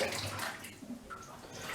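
A dishcloth is wetted in tub water while cleaning a trumpet, a brief close splashing and swishing of water, faint and continuous for under two seconds.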